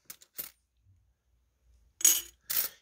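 500 won coins being sorted from a collection drop with small metallic clinks and taps, a few light ones early and then two louder bright jingling hits close by in a quiet setting.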